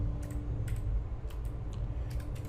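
Steady, close typing on a computer keyboard, a quick run of light clicks entering a console command in Sim Settlements 2, with no voice over it.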